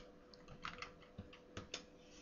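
Quiet clicking keystrokes on a computer keyboard as a search is typed into Bible Gateway, a short irregular burst of soft taps heard alone with no talking.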